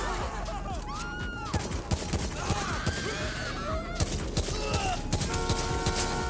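Weapon-firing animation gunfire in the FiveM game, a string of sharp repeated shots scattered across the clip among other honking game effects, fairly loud and close.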